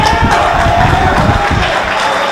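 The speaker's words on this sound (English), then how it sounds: "The crowd is loving it." A basketball crowd at a high school game between SPHS and Marian Catholic cheers loudly and steadily, a dense roar of voices with no single voice standing out.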